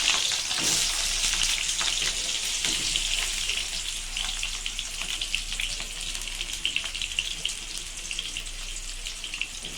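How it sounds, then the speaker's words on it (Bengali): Potatoes fry in hot oil in a kadai, giving a loud, continuous sizzle with crackling bursts and occasional clinks, steady throughout and free of talk. "আলুগুলো ভেজে নেব।"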